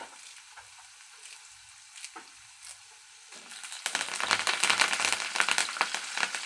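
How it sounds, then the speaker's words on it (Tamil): Garlic and curry leaves fry in hot oil; a quiet sizzle with light stirring scrapes swells into loud, dense crackling and spitting once the leaves go in, close up and continuous. "பூண்டு நல்லா ரோஸ்ட் ஆன உடனே தாராளமாக கருவேப்பிலை சேர்த்திக்கலாம்"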